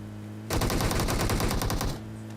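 Rapid automatic gunfire erupts in the battle royale game PUBG Mobile, a dense, loud burst of shots lasting about one and a half seconds over a steady background hum.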